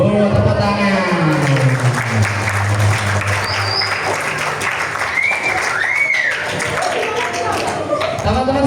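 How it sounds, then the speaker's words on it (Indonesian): A children's audience at a primary school claps hands together in a sustained, dense burst of applause, loud and close, mixed with chatter and voices throughout. "Oh, tepuk tangan."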